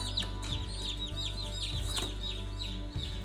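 Several chickens, fifteen just out of a box, cluck and chirp steadily over a low, constant hum, with short repeated calls overlapping one another at close range.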